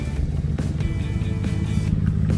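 A Lamborghini Imola's exhaust rumbles steadily and close, a deep low drone from the flex pipe with a few brief swells.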